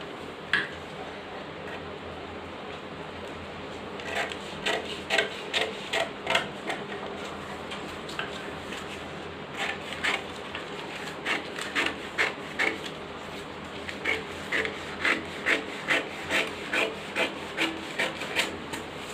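Scissors or a blade cutting through a paper pattern for an umbrella sleeve, giving a run of close, crisp rasping snips in irregular bursts over a steady quiet background.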